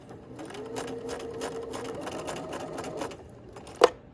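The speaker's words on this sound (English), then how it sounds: "Start at the top of your fabric, and you're going to backstitch after you sew the first 3 stitches." A sewing machine stitches a single-pointed dart in fabric, running in a steady rapid rhythmic whir for about three seconds, then stopping with a sharp click near the end.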